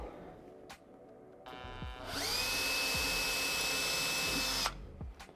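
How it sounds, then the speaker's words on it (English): A power drill boring a small hole into boat fiberglass while installing LED deck lights: a high whine spins up and holds steadily for a few seconds, then stops, with a few handling clicks around it. "And so now I'm just gonna drill my hole."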